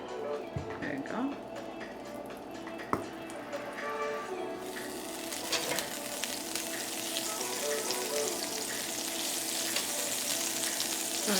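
Garlic fries in a pan of oil and butter: after a few quiet seconds of faint kitchen clatter, a dense, bright sizzle bursts in and keeps building, loud and close.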